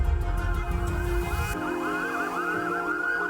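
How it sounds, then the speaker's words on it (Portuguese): A loud wailing fire brigade emergency siren sweeps up and down continuously, close by, with a rumbling engine underneath at first. "Ao som da sirene"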